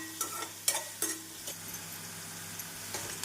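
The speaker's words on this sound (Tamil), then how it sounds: "வெங்காயம் 1 நிமிடம் நன்றாக வதங்கவும் 1 ஸ்பூன் இஞ்சி பூண்டு விழுது சேர்த்து விடலாம்." Chopped onion and ginger garlic paste sauté in a pan for a cabbage and egg stir-fry, a soft steady sizzle punctuated by several sharp metallic spoon scrapes and clinks near the start, no speech.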